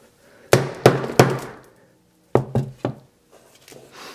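A hammer strikes the display of a Samsung Galaxy S7 edge in two bursts of three sharp, hard knocks each, with brief ringing decays and a pause between sets, then a few lighter taps.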